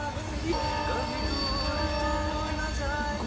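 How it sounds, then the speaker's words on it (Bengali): An electric train passes with a steady rolling rumble and faint squealing wheel tones, moderately distant and continuous without talk. "ওই যে ট্রেন ও ঝিকঝিক করে যাচ্ছে"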